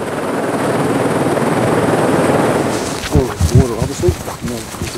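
A helicopter drones steadily for a few seconds while working along a cliff on Lord Howe Island, then voices begin talking over the continuing rotor noise.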